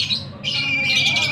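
A rainbow pitta chick calls while being hand-fed, giving shrill, insistent begging squawks close by in a short burst with a brief pause between them.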